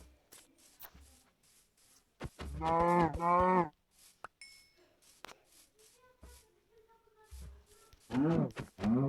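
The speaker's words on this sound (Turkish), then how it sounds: "inek." Minecraft cow mooing in two clear, drawn-out moos, one early and one near the end, with faint game footsteps and clicks around them and no talking.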